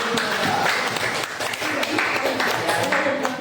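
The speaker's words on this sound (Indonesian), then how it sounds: "tepuk tangan untuk" Classmates applaud in a school classroom during an Arabic-language teaching session, a dense, steady patter of many hands clapping close by for a few seconds, with some background chatter mixed in.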